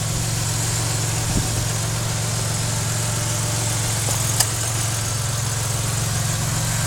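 A 2009 Chevrolet Impala police car's 3.9-liter V6 idling steadily with a low, even hum and slight vibration, one faint click partway through, no voices.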